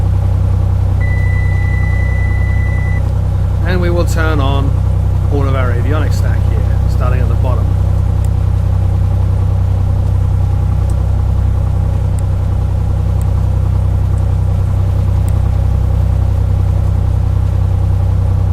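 A Cessna 182 Skylane's piston engine idles in the A2A Accu-Sim flight simulator game, a loud steady low drone throughout, with someone talking over it and a few short electronic beeps early on.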